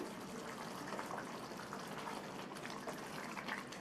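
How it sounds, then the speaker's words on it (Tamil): Water, about a quarter cup, poured into okra (vendakkai) masala in a pan, a steady continuous liquid rush and sizzle at moderate loudness with no talking. "1/4 கப் தண்ணி சேர்த்துருக்கேன்."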